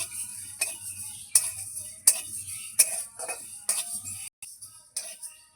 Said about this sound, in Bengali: একসঙ্গে মশলা ভেজে নিচ্ছি।